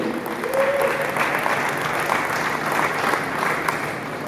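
Audience applause greets an environmental-discourse speaker joining live from Belgium at a Kinshasa sound festival, a steady wash of many hands clapping for several seconds.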